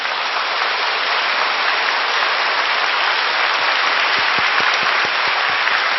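A church congregation applauding in thanks, a dense, steady roar of many hands clapping at once, loud and continuous throughout.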